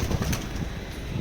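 A homing pigeon takes off with a short burst of wing flaps, a soft, quick fluttering heard close by.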